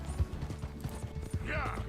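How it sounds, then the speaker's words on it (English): Horse hooves galloping in Red Dead Redemption 2, a rhythmic clip-clop mixed with game sounds and gear creaks, moderately loud under a background voice. "when you're galloping, make sure you time your sprint on the horse in time with his galloping feet"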